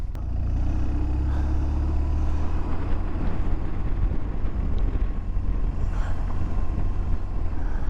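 A 2009 BMW R1200RT motorcycle being ridden, its engine a low steady drone beneath heavy wind rush throughout, no talk.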